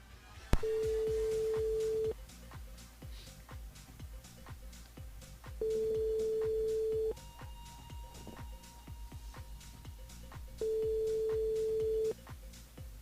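A phone ringback tone repeats three times, each long steady beep separated by pauses, with faint background noise and clicks between rings.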